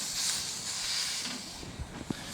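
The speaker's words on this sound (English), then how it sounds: "right here, the sizzle." A burger sizzles on a hot Kamado Joe griddle, a steady close hiss with faint pops and ticks near the end, no talking.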